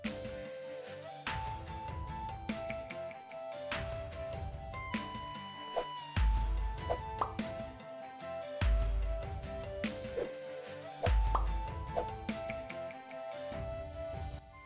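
Knife finely chopping a medium onion on a board in a home kitchen, with steady bursts of quick close cuts separated by short pauses while music plays throughout.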